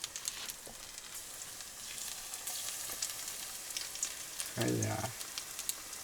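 Food coated in batter fries in hot oil outdoors, giving a steady soft sizzle with crackling pops, then a brief louder clatter as something is stirred or moved in the pan; no one talks.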